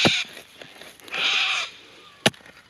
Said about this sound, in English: Those sulphur-crested cockatoos are taking a real interest in proceeding.